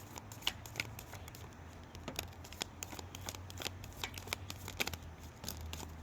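Cards being riffled and shuffled in quick, crisp bursts of flicking and snapping, close up, with a faint low hum underneath.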